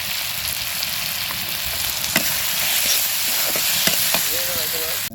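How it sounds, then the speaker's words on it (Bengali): Spices stir-fried in a pan, giving a steady, close sizzle with a few clicks of a utensil against the pan and faint background voices. "এইদিকে আমি যে মশলা কষানি ওগুলো সবই করছি"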